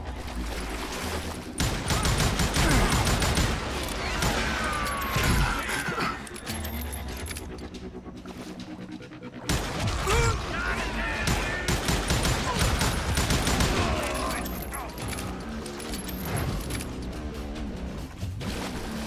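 Gunfire rattles in the Western shooter Call of Juarez: Gunslinger, with dense repeated shots in bursts, loud and close, a brief lull mid-way before the firing resumes, under occasional shouting voices.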